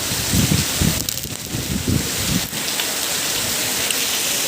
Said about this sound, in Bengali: দেখো কত পরিমাণে বৃষ্টি হচ্ছে